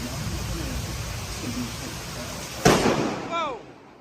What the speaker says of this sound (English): The lightning hit so close it startled the man.